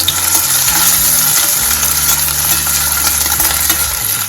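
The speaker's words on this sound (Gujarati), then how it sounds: "તેમાં કાંદા એડ કરીશું લીલા મરચાં એડ કરીશું મિક્સ કરી લઈશું" Onions and green chillies are mixed into hot oil, producing a loud, constant sizzling hiss that runs throughout, joined by a steady low hum underneath.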